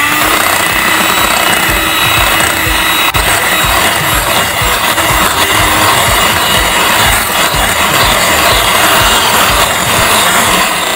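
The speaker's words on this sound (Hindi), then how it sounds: "एग मैंने इसमें तोड़ के डाल दिया है, अब मैं इसको भी थोड़ा सा बीट कर लूंगी।" An egg beaten into creamed butter for banana bread batter, likely with an electric mixer, makes a loud continuous whirring and rubbing buzz that sits close and steady, with no talking.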